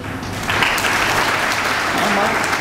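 An audience at a motivational talk in Bihar claps, a steady wash of applause that starts after a brief pause and holds to the end while a voice speaks.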